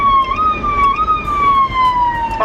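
A loud electronic police car siren wails, its pitch sliding up and down in a steady cycle, close and continuous.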